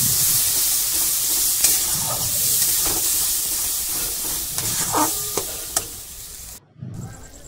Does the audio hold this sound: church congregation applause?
no